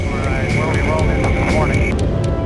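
China Air Flight 233, a passenger airliner carrying 315 people, on final approach in a storm: a continuous loud engine drone with a steady whine, heard under a narrator's voice.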